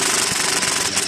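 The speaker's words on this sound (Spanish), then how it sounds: "Y ahora sí, ya pudo el taladro." A power drill or impact wrench loosens a wheel nut during tire work, giving a loud, dense, rapid rattling hammer that runs steadily through the short stretch.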